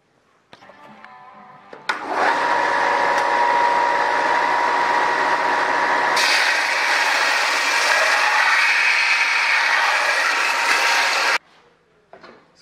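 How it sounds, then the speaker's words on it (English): A belt sander runs steadily for about ten seconds, loud and continuous, as it grinds excess material off metal flanges for an experimental airplane's horizontal stabilizer, with a brief contact change midway before cutting off. "I'll take that over the belt sander and get rid of the excess material."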